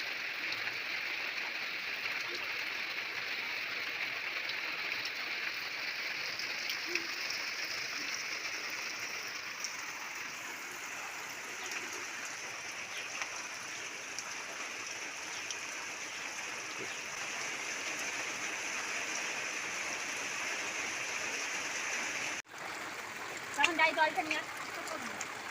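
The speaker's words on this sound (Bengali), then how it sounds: "আর এমন বৃষ্টি লেগেছে সারাদিন" Steady rain falls over a village home all day, a soft continuous hiss heard from a short distance, with a brief thud and clatter near the end.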